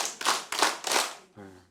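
An audience at a Bible lecture claps hands in time, four loud claps in a quick even rhythm, followed by a brief voice.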